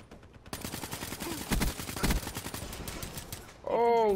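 Gunfire in the video game Black Ops III, a burst of shots rattling over steady game noise, with a sharp tonal game sound rising at the end.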